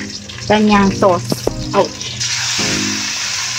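Marinated pork and sauce hit a hot pan and burst into a loud, steady sizzle, preceded by brief speech and a short exclamation.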